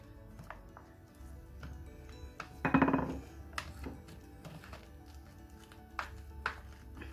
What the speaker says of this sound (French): Je viens mélanger ça à ma pâte.